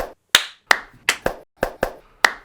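Single hand claps ring out alone in a quiet room, seven crisp, close strikes at an uneven pace, each followed by a short decay.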